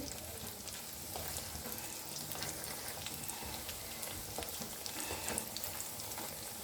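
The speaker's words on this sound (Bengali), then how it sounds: "এখনো ভাজা হয়নি, আস্তে আস্তে ভাজা হবে।" Banana blossom cutlets, already flipped once, fry slowly in oil over a low gas flame, giving a soft, even, continuous sizzle heard up close with faint crackles throughout and no voices.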